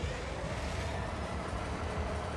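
A train rolls along rails, heard from inside the carriage as a steady, dense rumble with faint rhythmic clatter, continuous and even throughout, with no voices over it.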